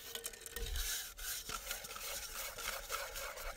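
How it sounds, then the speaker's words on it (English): A cooking pot scrubbed out with wet sand on a hiking trip, a steady gritty scraping and rubbing close by with a few sharper knocks, continuous throughout. "Can't go too deep and just like wipe them out with sand."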